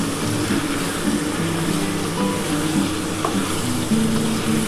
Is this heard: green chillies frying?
yes